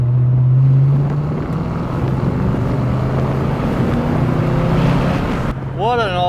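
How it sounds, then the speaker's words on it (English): Fox Body Ford Mustang V8 engine drones steadily from inside the classic car while driving, a loud low rumble with shifting tones, ending in a brief voice. "that V8 sound is what everybody wants to hear coming down their road"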